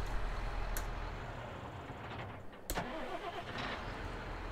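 A John Deere 6R tractor engine in Farming Simulator 22 cranks and turns over, settling into a low steady idle rumble, fairly quiet and alone.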